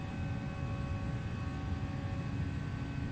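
Steady, even engine drone and broadband cockpit rumble of a flight-simulator airliner, Toliss A319 or Dash 8 Q400, continuous and moderately loud with no talk over it.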